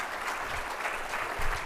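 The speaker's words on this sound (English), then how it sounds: "Anytime you come to Dartmouth, you'll get applause like this." Brief burst of crowd applause at a Dartmouth conversation event, a dense even wash of many hands clapping at moderate distance with no talk over it.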